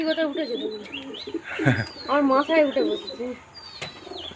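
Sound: flock of pigeons feeding

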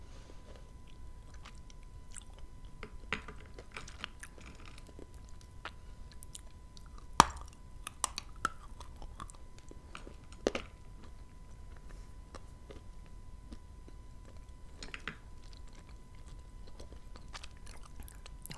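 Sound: biting and chewing dried prunes from Kyrgyzstan

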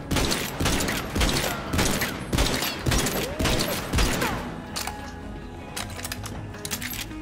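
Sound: gunfire shooting a Jackie in the video game Borderlands 3

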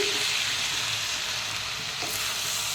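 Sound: onions frying in a pan

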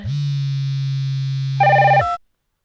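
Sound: telephone ringing

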